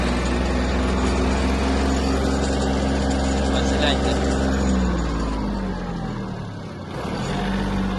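A Yanmar F-250 Japanese mini tractor engine runs steadily at close range with a low droning hum, dipping briefly near the end before picking back up.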